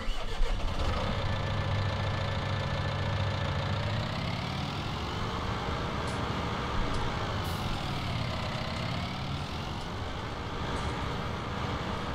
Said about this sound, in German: Also Traktor!